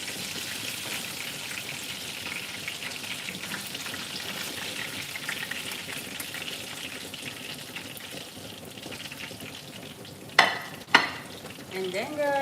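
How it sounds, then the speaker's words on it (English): Food fries in a pan with a steady, close sizzle and crackle, followed near the end by a couple of sharp clatters as it is moved. "we are almost done frying"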